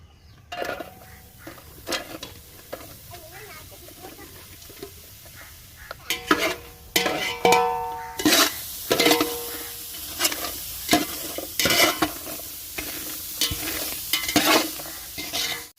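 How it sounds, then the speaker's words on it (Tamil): Onions and green chilies fry in a hot pot, crackling and sizzling throughout, with repeated scraping and stirring of a metal utensil against the pot, growing louder partway through. "பாத்திரம் சூடாகிட்டு இந்த வெங்காயத்தையும் பச்சை மிளகாவையும் போட்டுக்குவோம்"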